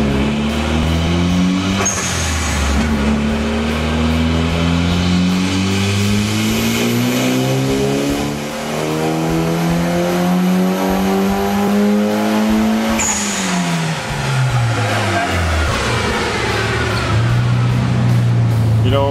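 A Mazda RX-7 engine revs hard and loud, pitch climbing and falling through repeated rising sweeps and gear-like shifts, with a brief tire squeal, the roar sustained throughout.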